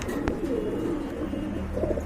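A pair of Barhuma pigeons coo in a low, steady murmur close by, the soft rolling calls continuing throughout with a faint background hum.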